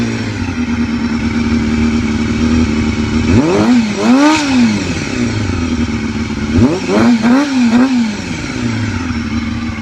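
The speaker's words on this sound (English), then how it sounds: "The ultra high rev of this engine is part of what gives it that distinct sound." A motorcycle engine revs hard twice, pitch soaring to a shrill scream and dropping back, over a loud continuous idle rumble close by.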